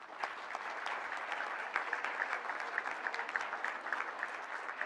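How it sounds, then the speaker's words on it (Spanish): Dense, steady applause from an audience for Mexico City head of government Claudia Sheinbaum at a disarmament program event, sustained clapping at moderate distance with no talk over it. "Por eso yo le doy un aplauso,"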